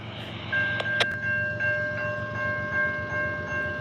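CN freight train 106 rolling past with locomotive 2310 leading and XCVX 3759 trailing second, en route from Vancouver to Montreal: steady close rail rumble and wheel noise, with sustained high tonal whines running over it.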